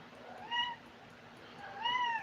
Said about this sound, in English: my cats are meowing